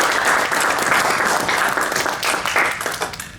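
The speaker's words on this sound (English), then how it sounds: "Please, round of applause." A room full of workshop attendees in Brussels gives a round of applause after a presentation, with dense, loud clapping that holds steady and then begins to thin slightly toward the end.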